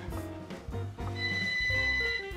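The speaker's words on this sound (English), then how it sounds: "the telephone rang right at that instant" A telephone bell rings loudly indoors in repeated rapid trills with short gaps, nearby and clear, with no talking over it.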